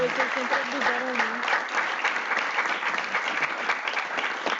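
An audience claps steadily throughout at a Red Cross and Red Crescent Day event, with fairly close, even applause and a voice speaking over it at the start.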